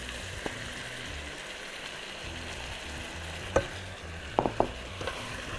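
Chinese pilaf with chickpeas sizzles steadily in a pan, with a few sharp scrapes and clinks as it is stirred near the end. No one speaks.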